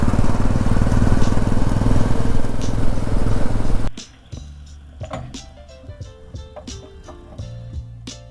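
Motorcycle on a ride to Queenstown in Tasmania, a loud steady engine drone with wind roar that cuts off abruptly partway, leaving quieter scattered knocks and clicks.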